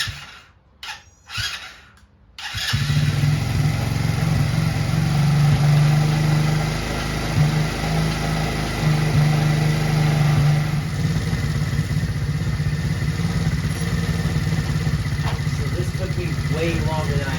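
A Tao Tao camo ATV that sat for years runs at a steady idle with its carburetor being adjusted, a close, even engine drone. Brief bumps and handling noises come first, and the idle then continues unbroken.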